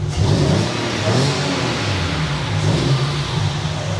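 A 3.0-litre V6 engine in an Audi A4 Cabriolet revs loudly and continuously, its deep rumble rising and falling slightly while close by, with no voices over it.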